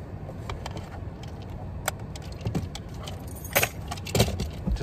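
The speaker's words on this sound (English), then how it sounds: "I need the key" Keys jangle in a few quick, fairly faint rattles over a steady low rumble outdoors, likely from a vehicle or trailer nearby in a national forest; no talking.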